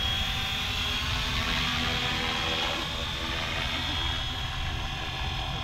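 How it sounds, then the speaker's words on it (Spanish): A Flywing FW450L V3 RC helicopter, slightly out of calibration, flies a figure-eight nearby, its rotor and motor making a loud, steady, unbroken whine and buzz throughout. "Al parecer mi helicóptero está un poco descalibrado"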